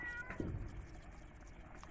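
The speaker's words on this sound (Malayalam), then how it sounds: "മണം കേട്ടിട്ട് അവിടെ നിന്ന് പൂച്ചയൊക്കെ വരുന്നുണ്ട്" A short, soft meow from a nearby cat, followed by quiet background and another faint cry at the end.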